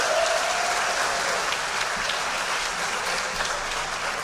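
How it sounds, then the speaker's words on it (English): A room full of guests at a school athletics banquet claps for Miss Orr, the sustained applause steady and fairly loud throughout, with no one speaking. "You can tell from the round of applause that she really is what makes our athletic department run"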